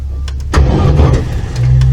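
Rally car engine cranking on a slope and failing to start with a dead battery, a loud grinding starter churn with a sputter that cuts in after a short pause, close up.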